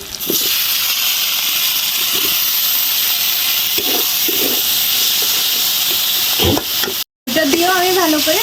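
Tomatoes and ground cumin sauté in a pan with a loud, steady hiss and sizzle, broken by occasional stirring scrapes and a brief cut near the end, after which a voice speaks over the frying.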